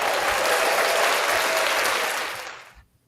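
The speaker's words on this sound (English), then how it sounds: "Let me give y'all a hand clap" An audience bursts into loud, dense clapping that holds steady for about two seconds, then tapers off quickly into silence.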